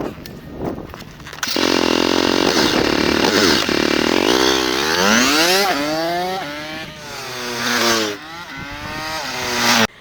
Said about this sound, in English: in the second case, as we heard, the sound produced by the bike was